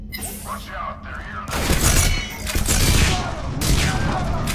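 Heavy gunfire during a firefight aboard a ship's command deck in Mass Effect 3, with loud, dense bursts and booms that pile up and continue throughout, close and dominant.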